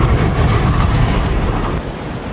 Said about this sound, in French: Une tempête brûlante de rochers et de cendres dévale la pente d'une force irrésistible.